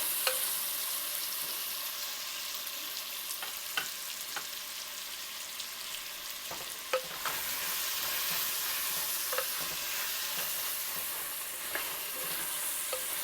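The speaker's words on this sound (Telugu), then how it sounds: "ఇలా ఒక్కసారి మిక్స్ చేసేసుకుందాము ముక్కలన్నీ" Vegetable pieces for sambar stirred in a pan, a steady close sizzle with soft scraping and occasional light clinks of the utensil, no voices.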